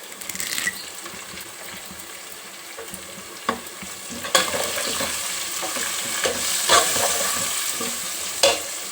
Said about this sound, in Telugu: అల్లం వెల్లిపాయ పేస్ట్ కూడా వేగింది కదండి